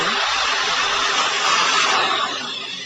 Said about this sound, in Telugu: ఈ బటన్ని ప్రెస్ చేసి మనం కనుక డ్రిల్లింగ్ చేసామంటే కంటిన్యూస్గా డ్రిల్లింగ్ అవుతుంది